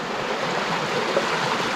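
Water rushes steadily over bedrock in 19 Mile Creek in Tasmania, a dense, continuous broadband roar, close and unbroken with no voices.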